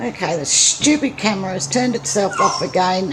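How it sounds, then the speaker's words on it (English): A pet dog whimpers for a cookie in short high whines and yips, heard between and under a person's steady talking. "That's my dog. She wants a cookie."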